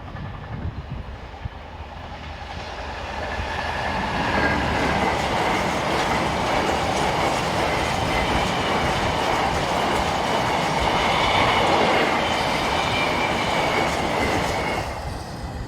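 A class 66 locomotive, 66192, hauls a long rake of empty rail-carrying wagons north on a freight service, rumbling closer and swelling into a loud, steady roll of wheels and clattering rail joints before easing slightly.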